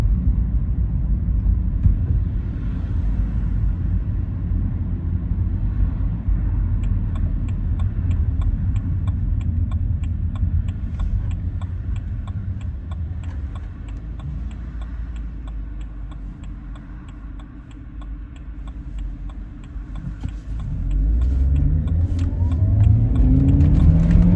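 BMW 116i car accelerating at full throttle, heard from inside as a steady engine drone that builds and rises in pitch toward the end, with faint ticking in the cabin.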